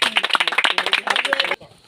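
Audience clapping for a young boy's song about cleanliness, a dense run of sharp overlapping claps that fills the room for about a second and a half, then stops abruptly.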